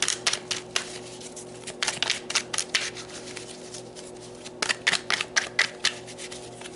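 A deck of oracle cards is shuffled and cards are pulled, giving a run of crisp, close riffles and snappy card flicks in irregular bursts, with a faint steady hum in the background.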